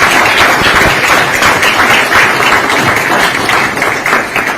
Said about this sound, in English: ladies and gentlemen, a round of applause to thank President Ruto